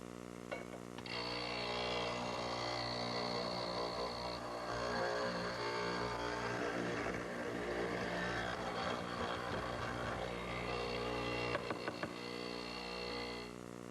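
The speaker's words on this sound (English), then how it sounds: "I've set up my mortising machine with a 1/2-inch mortising chisel and a bit" A mortising machine fitted with a half-inch chisel and bit cuts a mortise in wood, a steady droning motor hum with rough grinding as the bit bores in, and a few sharp knocks near the end.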